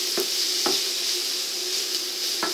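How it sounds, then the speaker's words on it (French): Onions stirred in a pan for stuffed peppers, a steady close sizzle with a few soft scraping strokes of the spoon spaced through it, no voices. "on va attendre en mélangeant régulièrement que ça suinte un petit peu"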